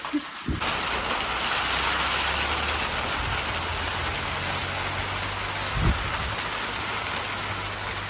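Steady, dense rain hisses on surfaces close by, continuous and even, with a couple of soft thumps early and midway.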